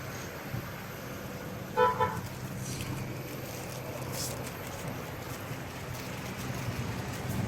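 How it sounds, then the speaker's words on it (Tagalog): Cars crawl through slow traffic on a city road seen from an overlook, a steady low rumble with one short horn toot early on, fairly distant and continuous. "Mga sasakyan dito nagapang."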